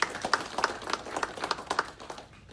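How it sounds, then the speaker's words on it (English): A small crowd claps briefly, scattered hand claps that thin out and fade within a couple of seconds. "Please give Shore a round of applause."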